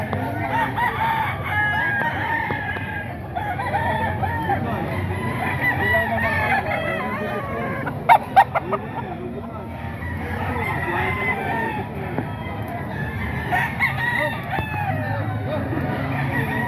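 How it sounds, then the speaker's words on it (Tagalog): Roosters crow repeatedly at a busy Sunday chicken market in Grotto, several birds calling near and far over clucking, crowd murmur and someone speaking. "Napakaraming manok dito sa grotto."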